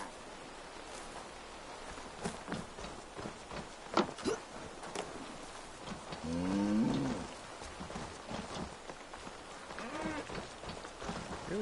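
Donkeys and other livestock in a barn in Assassin's Creed Valhalla, with one drawn-out animal call rising over a steady patter of rain-like ambience and soft scattered knocks.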